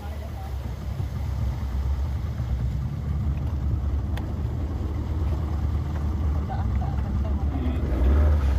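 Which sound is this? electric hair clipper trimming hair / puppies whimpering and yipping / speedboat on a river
speedboat on a river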